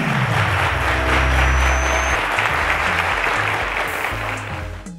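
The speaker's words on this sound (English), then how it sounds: "A round of applause to them" A quiz show studio audience applauds steadily, a dense sustained clapping that tapers off near the end, with faint background music underneath.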